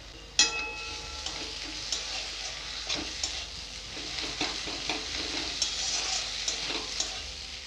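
Ginger paste sizzling with browned chopped onions in a pan for an egg tarka curry, a steady hiss broken by light scraping and tapping from stirring, close and continuous with no talking.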